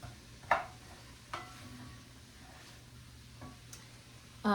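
Garlic being stirred in a soup pot: a faint, steady sizzle with a few light clinks of the utensil against the pot and a scrape at the end, with no talk.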